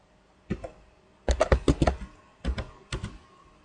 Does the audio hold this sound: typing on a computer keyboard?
yes